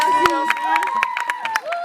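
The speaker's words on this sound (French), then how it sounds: "On applaudit très fort." Audience at a tennis camp closing ceremony clapping and cheering in a short burst, close and lively, with individual claps popping out over crowd voices and some shouting.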